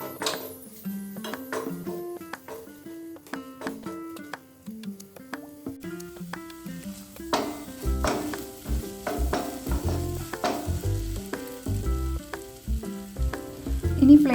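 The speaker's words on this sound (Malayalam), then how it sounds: "ഇനി അതെല്ലാം കൂടെ നന്നായിട്ട് മിക്സ് ചെയ്ത് ഇളക്കി ഒരു 2-3 മിനിറ്റ്സ് മീഡിയം ഫ്ലെയിമിൽ" Spicy Kerala-style tomato pasta sauce is stirred and cooked in a pan over medium flame, sizzling steadily while a spoon ticks and scrapes against the pan, with music playing throughout and getting louder toward the end.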